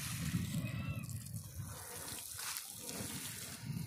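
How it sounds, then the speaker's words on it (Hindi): Water gushing steadily from a natural spring beside farm fields in rural Jharkhand, a continuous close rushing flow with no break, no voices over it. "यहाँ से पानी इसी तरह से लीक करता है"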